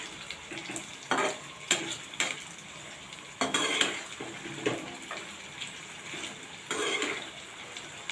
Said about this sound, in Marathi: कांदा चांगला लाल होईपर्यंत तळून घ्यायचा आहे